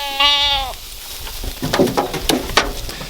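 Goats at feeding time on a small homestead: one loud, close bleat opens the scene, followed by rustling and shuffling as the animals move about and eat.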